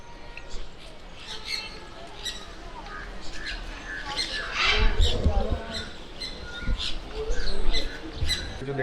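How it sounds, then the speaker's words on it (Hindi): Green-cheeked conures, small South American parrots at Indore Zoo, squawk and chirp repeatedly in a busy flock, shrill calls overlapping constantly with crowd murmur and someone talking beneath. "ये ग्रीन चिक कॉर्नियर है। ये साउथ अमेरिकन पैरेट है।"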